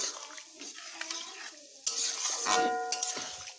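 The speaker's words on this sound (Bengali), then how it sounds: "জলের সঙ্গে এগুলোকে ভালোভাবে মিশিয়ে নিচ্ছি" Taro pieces being stirred and mixed with water in a pot, giving a close, wet scraping and clinking of a spoon against metal with some sizzling, fairly quiet and continuous.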